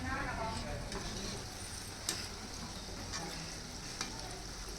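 Shankarpali dough snacks fry in hot oil with a dense, steady sizzle and bubbling hiss, punctuated by a couple of brief clicks from a utensil, close and fairly constant throughout.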